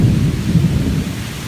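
Heavy summer thunderstorm rain pours steadily in Alabama, with a deep, rolling rumble of thunder underneath throughout this short, loud stretch.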